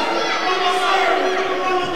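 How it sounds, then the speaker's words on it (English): A wrestling show crowd roars during a three-on-one beatdown, a dense, sustained wash of shouting and cheering with higher children's voices standing out, loud and continuous. "The crowd letting them know what they think."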